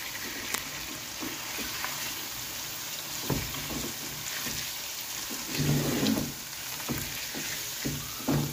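Potatoes frying in a pan for aloo matar, a steady soft sizzle with scattered stirring scrapes and clinks, fairly close and continuous with no talk.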